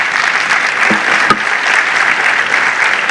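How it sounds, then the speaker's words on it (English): A conference audience claps steadily for speakers at a South Florida real estate forum, dense applause holding at an even level throughout. "Give them a round of applause."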